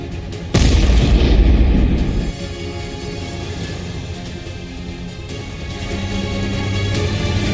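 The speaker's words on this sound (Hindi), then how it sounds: "ये सबसे बड़ा बम है दुनिया का और पहली दफे इसका इस्तेमाल किया गया है।" The world's biggest bomb explodes on an ISIS target in Afghanistan: one sudden, heavy boom that holds for over a second, then fades into a long, low, rolling rumble.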